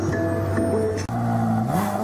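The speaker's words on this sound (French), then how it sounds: "Je vous emmène faire un tour de Ferrari." A Ferrari sports car drives with a steady, loud engine drone whose pitch shifts through gear changes, with a brief dip midway and no voices.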